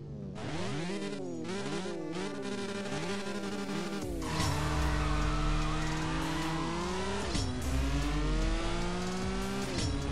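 Racing car engine in CSR Racing 2, the Pagani Zonda Cinque, revving loudly and climbing through gears with rising and falling whines and shift breaks, steady and close throughout with no talk.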